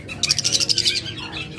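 Lovebirds, budgerigars and cockatiels at a bird sale give a quick burst of close, bright, rapid chirps, which then trail off into scattered softer calls.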